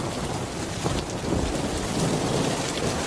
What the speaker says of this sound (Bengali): কি ঝুম বৃষ্টি পড়ছে রে